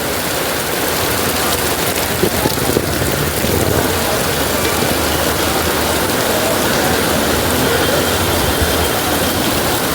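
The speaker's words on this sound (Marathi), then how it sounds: "एवढा मुसळधार पाऊस आहे, जास्त पाऊस पडतोय." Heavy rain pours down loud and unbroken at a railway station, a dense steady roar of water hitting surfaces nearby.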